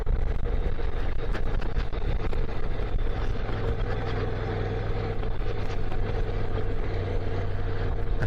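A Honda NC700 motorcycle rides a mountain road near Cloudcroft, New Mexico, its steady low engine drone running continuously and close beneath heavy, roaring wind rush across the microphone, with no voices.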